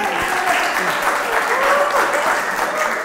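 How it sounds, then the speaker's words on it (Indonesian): Audience applause at a stand-up comedy roast show, a steady, dense wash of clapping lasting about three seconds at even loudness, with faint voices and cheers mixed in. "Tepuk tangan dong"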